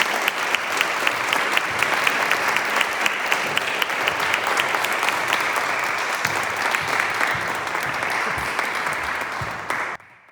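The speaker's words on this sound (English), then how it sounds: "I wonder if we could do a little bit of a round of applause for Craig Andrew Robertson" Audience clapping at a film premiere in Aberdeen, sustained and fairly full, with a few sharper individual claps standing out before it fades and stops abruptly at the end.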